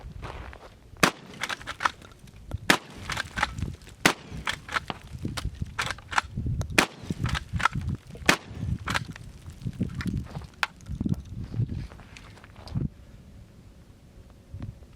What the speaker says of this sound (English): Let's not miss with the shotgun.